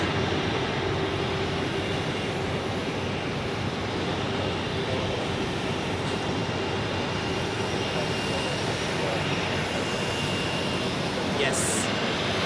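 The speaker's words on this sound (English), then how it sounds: "Let's enjoy the second A340 takeoff of today." An Edelweiss Airbus A340 takes off at Zurich Airport, its four engines giving a steady, broad roar that holds throughout without dying away.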